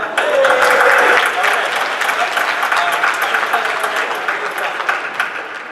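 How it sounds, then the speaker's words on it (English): Audience applause at a competitive Super Smash Bros discussion panel at PAX Prime 2015, loud dense clapping from a large crowd with some voices, sustained and slowly tapering. "Let's give a round of applause."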